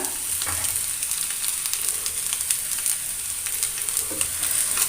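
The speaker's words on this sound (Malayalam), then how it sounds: "മുട്ടയുടെയും നാളികേരും എല്ലാം ചേർത്തിയെടുത്ത് നല്ലോണം അങ്ങനെ ഉലർത്തിയെടുക്കാം" Drumstick flowers tossed with egg, grated coconut and curry leaves in a hot pan for Kerala-style thoran, giving a steady, close hiss of frying with faint stirring scrapes throughout.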